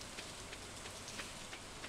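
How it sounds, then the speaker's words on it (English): Rain patters steadily in a beach farming video game, a faint even hiss with soft scattered drops and no talk. "Oh, it's raining."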